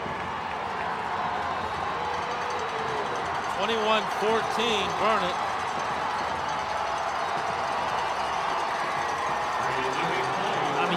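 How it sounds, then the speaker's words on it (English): Big, excited crowd at the 2003 Texas 3A Division I state championship football game in Irving, Texas, Burnet versus Gainesville, a steady roar from both sides swelling briefly under an announcer's continuous play-by-play. "you can hear the rise in both sides. This is a big, excited crowd this evening"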